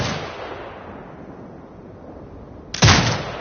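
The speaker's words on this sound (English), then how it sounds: "Exit binocular mode and command the turret to fire." A turret fires in the Sniper Ghost Warrior Contracts 2 video game: a heavy blast opens, its rumble decays slowly, then a second loud boom crashes in near the end.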